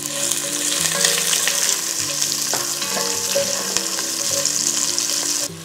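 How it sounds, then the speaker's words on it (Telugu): Long-sliced onions hit hot oil already frying dried red chilies and garam masala, giving a loud, dense sizzle with scraping stirs and occasional spoon knocks close by, no talking. "పొడవుగా కట్ చేసి పెట్టుకున్న ఉల్లిపాయలు వేసుకోవాలి"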